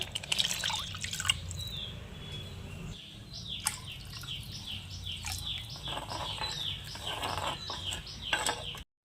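Water pours and patters into a pot of Kerala-style sardine curry in a steady, close stream, with small splashy drips throughout.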